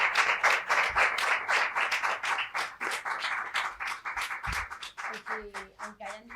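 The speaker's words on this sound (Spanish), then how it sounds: "le diéramos un gran aplauso" An audience at a book presentation for horror novelist Raquel Ortega applauds: continuous dense clapping from many hands over several seconds, close and lively, with voices mixed in near the end.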